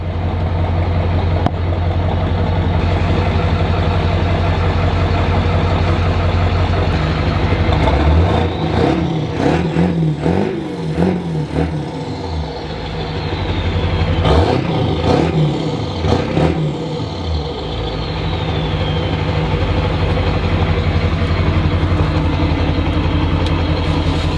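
A turbocharged 7.3L diesel in an old truck idles with a deep, steady rumble, then revs twice in strong swells with audible turbo whine, settling back to a loud, close idle between and after the revs.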